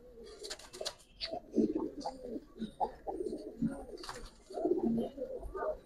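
Tumbler pigeons coo softly and repeatedly close by, a series of low throaty burbling calls in uneven rhythm, with faint surrounding noise and no talk.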